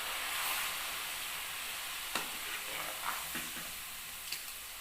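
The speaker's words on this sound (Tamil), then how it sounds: "பியூர் எண்ணெயாக இருந்தால் இப்படி தான் பொங்கி வரும்" Pure coconut oil with a ground herbal paste bubbles and sizzles in a pan, a continuous quiet hiss broken by a few small pops and crackles.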